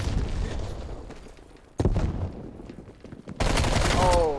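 Gunfire in Call of Duty: Black Ops Cold War, with several loud, sharp sniper-style shots cracking out over a busy game mix, mostly clustered near the middle and end.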